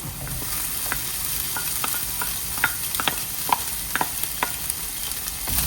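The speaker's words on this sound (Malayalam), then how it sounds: "ഇനി നമ്മൾ നേരത്തെ ബോയിൽ ചെയ്ത് വെച്ചിരുന്ന എഗ്ഗ് ചോപ്പ് ചെയ്തെടുത്തിട്ടുണ്ട്. അത് നമുക്ക് ഇതിലേക്ക് ചേർത്ത് കൊടുക്കാം" Chopped boiled egg being stirred into a frying masala in a pan, with a steady sizzle underneath and a string of soft, irregular scraping and tapping strokes from the spoon, close and moderately quiet, no talking.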